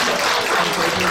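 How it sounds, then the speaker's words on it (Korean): Audience applause at a Korean Christian book launch event, a dense, steady wash of many hands clapping, loud and continuous with no pauses. "다시 한번 큰 박수로"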